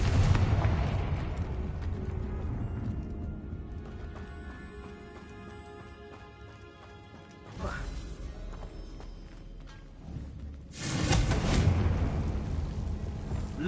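The Confringo fire spell in Hogwarts Legacy goes off as loud booming blasts with a rumbling tail, separated by quieter stretches, and speech is heard alongside.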